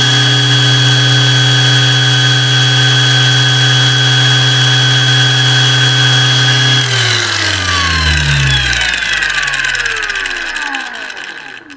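Steady high-pitched whine of an ALLSOME PT037-N cordless angle grinder running at third speed, about 7500 rpm. It runs loud and close, then switches off and winds down with falling pitch.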